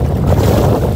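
Steady wind at the seaside in Little Boracay, Calatagan, Batangas, buffets the microphone in a low, rumbling roar, continuous and loud, with a watery wash beneath it.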